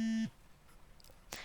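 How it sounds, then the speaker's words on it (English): A phone's steady buzzing tone in a video game, cut off abruptly after a quarter second, followed by faint blips and a short bright chime. "my phone vibrates and its text tone rings out"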